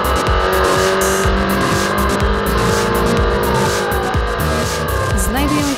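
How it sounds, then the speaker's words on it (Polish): A race car laps the Tor Poznań racing circuit, its engine a loud, close, continuous drone with shifting pitch as it accelerates along the track. "No i zobaczcie, jak jeżdżę po torze Poznań."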